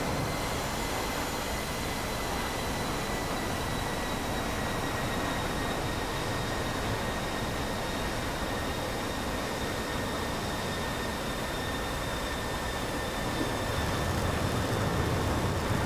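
Steady broadband roar of a jet aircraft tipping into an attack dive in the DCS flight simulator, a constant wash of engine and wind noise with faint whining tones, swelling slightly at the end.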